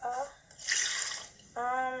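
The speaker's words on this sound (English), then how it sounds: "we're going to dump out the vinegar" Vinegar is dumped out of a container holding an egg, a short splashing gush lasting under a second, with a voice talking just before and after.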